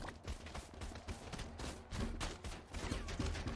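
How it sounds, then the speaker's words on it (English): Paintball gunfire during a match in a GTA V roleplay game, with dense, rapid popping shots in quick bursts at moderate level over a busy background. "You guys are shooting us!"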